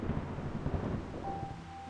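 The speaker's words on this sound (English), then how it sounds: "Oh, thunder." Thunder from the video game Reverse: 1999 rolls as a low, rumbling wash. It is steady and moderately loud, with no voices over it.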